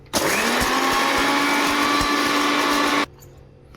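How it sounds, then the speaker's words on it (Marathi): An electric mixer grinder spins cardamom, nutmeg and sugar in a loud, steady whine for about three seconds, starting and stopping abruptly, with no talk over it. "थोडी साखर टाकून वाटायची मिक्सर मधून"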